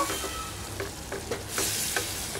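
Boiled cluster beans with salt, chilli powder and turmeric are tossed in a pan, giving soft stirring scrapes over a low sizzle. The strokes are close and repeat at a loose rhythm.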